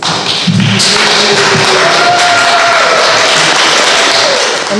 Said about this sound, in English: Please join me in thanking Ian Kirk with a warm round of applause